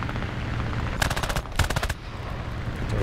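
Fury Mk I fighter machine guns firing in War Thunder air combat: two short, rapid bursts of gunfire separated by a brief pause, loud and close, over steady engine drone.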